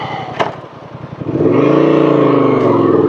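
A 2024 Honda Transalp 750 motorcycle pulls away and accelerates, its engine rising from a low idle into a steady, loud drone close by, with wind rush building as the bike gets underway.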